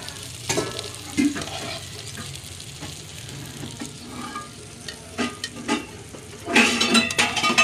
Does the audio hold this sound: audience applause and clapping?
no